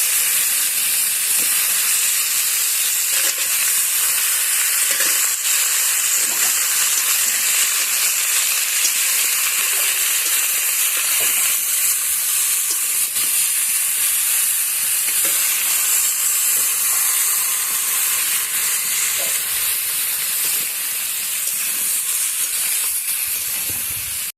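Chopped bottle gourd hits a hot pan and fries in a continuous, loud, close sizzle and hiss that holds steady throughout, with no one speaking.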